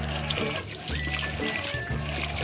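Water is poured into a pan of bulalo beef soup, a close, steady trickling splash in short pours with no talking.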